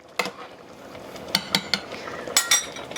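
Chicken and dumplings stirred in a pot with plenty of liquid: a utensil clinks and scrapes against the pot in a handful of sharp, uneven knocks, close up over a quiet background.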